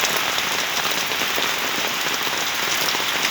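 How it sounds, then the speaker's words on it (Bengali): Steady rain falls in Habiganj, a dense, even hiss of drops on surfaces with no pauses and no voices. "আকাশে প্রচুর মেঘ জমে আছে এবং সকাল থেকে ঘুরি ঘুরি বৃষ্টি শুরু হয়েছে"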